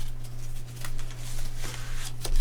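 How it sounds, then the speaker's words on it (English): Agenda cards from the Builders of Baldur's Gate board game are shuffled by hand, giving soft riffling and papery flicks in short bursts over a steady low hum, close up with no talking. "we're going to shuffle the agenda cards"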